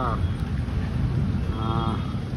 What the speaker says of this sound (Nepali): एकदमै धेरै मात्रामा गडाङगुडुङ हावा हुन्नरी आइरहेछ